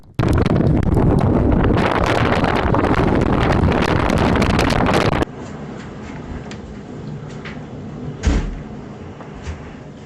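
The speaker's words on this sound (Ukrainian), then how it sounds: "А вітер був сильний." Roaring wind gusts buffet the microphone loudly for several seconds, then cut to a calmer background with a single thump and faint rustling.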